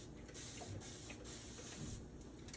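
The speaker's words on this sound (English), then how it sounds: "We're going to spray." Cooking spray hisses from a can in a home kitchen, a steady close hiss broken into a few short bursts with brief gaps between them.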